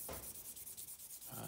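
Piece of stabilized koa wood being hand sanded with 400 grit sandpaper: quiet rhythmic rubbing strokes, soft and close, about a dozen quick back-and-forth passes.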